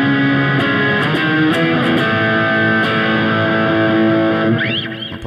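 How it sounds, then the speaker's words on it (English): A loud distorted electric guitar rings out with punchy octave accents and sustained chords, ending in a brief bending squeal. "the third time you're going to be playing some octave accents that sounds like this."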